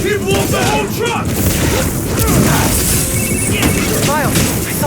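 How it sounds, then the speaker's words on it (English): Truck explosion in the video game Spider-Man Miles Morales during a fight with Simon Krieger: a dense, loud roar of blasts and crashing debris, with shouting voices over it throughout. "He blew up the whole truck!"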